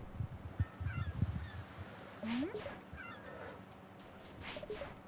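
A goose-like bird gives a honking call, one rising honk standing out over a busy outdoor background with low thumps and distant bird calls, not loud and somewhat masked.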